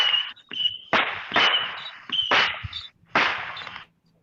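A neighbor sets off fireworks, giving a rapid series of sharp cracks and crackling bursts with short gaps between them, close and loud.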